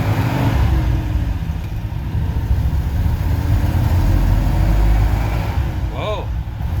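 A 1969 Ford F100 pickup engine, freshly refreshed and fitted with Pertronix electronic ignition, runs loud and close with a rough steady idle and rising revs. No one speaks over it.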